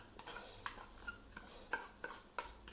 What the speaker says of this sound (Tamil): அதில் நாட்டு சர்க்கரையை போட்டு அதெல்லாம் கலக்கிக்கலாம்